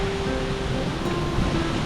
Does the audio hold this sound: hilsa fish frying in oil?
no